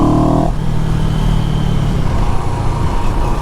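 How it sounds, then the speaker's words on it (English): A CFMoto CLX Heritage motorcycle engine idles and revs close by, a throaty exhaust rumble with a brief higher pitched note at the start, continuous throughout. "together with the exhaust on the back, it just sounds lovely"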